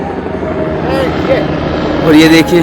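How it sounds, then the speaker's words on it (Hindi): Helicopters fly over the mountains toward Panchtarni on the Amarnath Yatra route, a steady rotor drone that stays under a voice throughout. "हेलीकॉप्टर जो पंचतरणी जा रहे हैं।"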